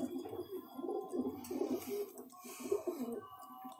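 Pulser and Dasu breed pigeons coo in a loft, several low burbling calls overlapping in a steady rhythm close by, with a brief faint voice in the background.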